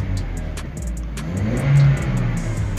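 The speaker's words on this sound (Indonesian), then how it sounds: "Mobil Toyota Innova." A Toyota Innova gasoline engine, after cleaning of its MAF sensor fixing hesitation around 3000 RPM, revs up close by, the tone swelling to a brief peak before settling back to idle, with a repeated ticking.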